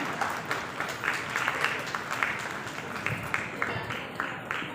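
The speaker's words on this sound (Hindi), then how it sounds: "तालियां कम नहीं होनी चाहिए।" An audience applauds to welcome a woman onto the stage at a Hindi-language motherhood honour ceremony, steady mid-level clapping across the whole stretch with some voices mixed in.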